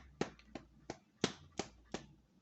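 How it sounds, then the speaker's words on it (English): A book clapped shut six times in a steady rhythm, each a sharp, close slap with a quick decay, alone with no talk. "You see, the book's happy too. It was clapping along."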